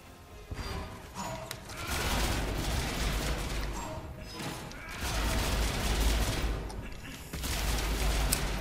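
Heavy gunfire in Mass Effect 3, with dense, sustained bursts of shots and impacts that swell in waves across the clip, loud and close, with battle noise throughout.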